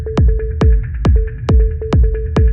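Sine wave lead synth tuned to a fixed 440 Hz in Ableton Operator, playing a rhythmic programmed pattern of short plucky notes with punchy low hits roughly every half second, loud and alone.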